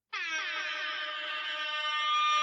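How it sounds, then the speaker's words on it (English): An air horn blares in one loud, continuous blast that starts abruptly and holds steady, with no talk over it. "let's have an air horn battle"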